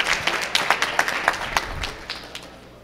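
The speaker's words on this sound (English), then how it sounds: "Yeah, give him a round of applause." Scattered audience clapping at a Somali community graduation and scholarship ceremony in Ohio, a few distinct hand claps over a thin crowd murmur, fading toward the end.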